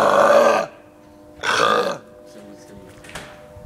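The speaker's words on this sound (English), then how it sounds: "This is the end of Belch number 3." Two loud, close belches in a row, the first about half a second long and the second slightly shorter, followed by quiet room tone with faint background sounds.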